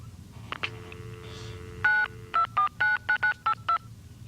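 A series of telephone touch-tone dialing beeps, about eight short evenly spaced tones following a brief dial tone, used to reach a local access number for long-distance calling in 1983, clear over a low background hum.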